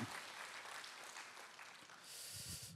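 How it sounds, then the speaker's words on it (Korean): A church congregation at a Friday prayer meeting claps in steady, continuous applause that sounds somewhat distant and fills the room, with no speech over it. "우리 하나님께 영광의 박수와 함께 이분들의 격려의 박수를 드리도록 하겠습니다"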